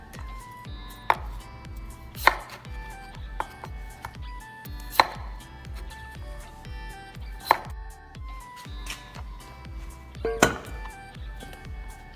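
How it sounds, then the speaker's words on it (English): Raw potatoes being chopped into big chunks for roasting, a knife striking a cutting board at close range in an ongoing, fairly regular rhythm of sharp thuds with no talking. "Then cut up some potato in big sizes because we're gonna roast it."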